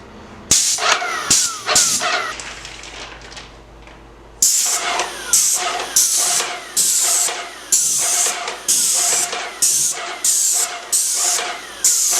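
A paint spraying machine test-spraying black paint, with loud close hissing bursts in a broken rhythm, several short blasts, a pause, then many evenly repeated spurts over a low machine hum, with no talking.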